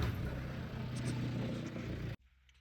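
A Skoda Fabia VRS on a test drive down the road, giving a steady broadband engine and road roar close by that cuts off abruptly near the end.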